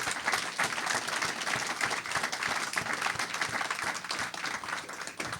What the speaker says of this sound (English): if we can just do a massive round of applause for the panel today